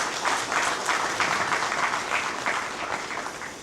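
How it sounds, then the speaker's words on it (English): Loud, full applause fills a company townhall celebrating ten years of the delivery firm Jeebly, a crowd clapping hard and continuously with a dense, even texture that eases slightly at the end. "huge round of applause to each one of you"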